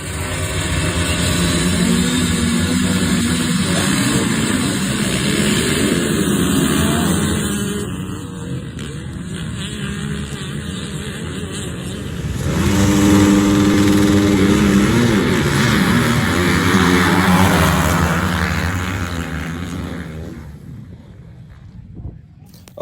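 Motocross bikes at a race start rev and launch together in a loud, blaring engine roar, with wind buffeting the microphone. The roar surges, dips, then swells again before cutting off at the end.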